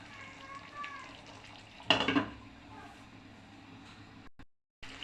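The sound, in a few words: chicken rezala cooking on low heat after stirring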